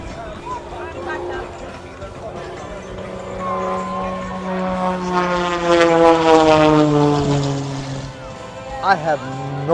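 A propeller airplane flies past at the Stuart Air Show, its engine drone rising to a loud, close peak with a sweeping pitch shift before fading, while spectators talk nearby.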